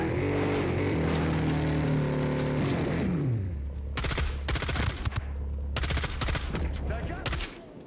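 Rapid automatic gunfire in a combat video game against Russians, loud bursts of shots coming in two clusters after an engine-like drone fades, with brief gaps between volleys.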